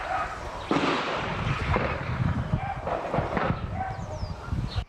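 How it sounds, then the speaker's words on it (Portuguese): Gunfire crackles during a shootout in Rio de Janeiro, with repeated sharp bangs echoing through the neighbourhood amid steady background noise and what sounds like dogs barking. "Muito tiro, muito tiro."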